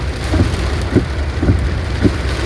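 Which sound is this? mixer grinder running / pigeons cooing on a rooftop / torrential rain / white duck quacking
torrential rain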